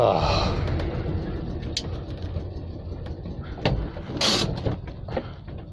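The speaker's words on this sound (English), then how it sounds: "That's not a happy engine, is it?" An Invacar, a small invalid carriage, runs with a struggling, unhappy engine, a rough uneven rumble with clunks and a couple of sharp knocks, heard from inside as it labours along the road.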